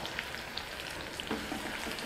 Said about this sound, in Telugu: ఇప్పుడు ఉల్లిపాయ ముక్కలు వేసుకుందాం. అలాగే ఎండుమిర్చి వేసేసుకుందాం.